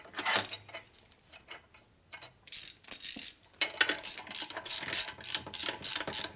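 Bolt being tightened into the case of a 1965 Harley-Davidson panhead 74ci FLH motor, with a run of quick metallic ratchet clicks in bursts separated by brief pauses, close and fairly clear, no talking.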